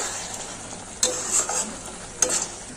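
Dhaba-style egg curry being stirred in a pan, with two sharp spoon scrapes about a second apart over a faint, steady background sizzle, close and quiet, no talking.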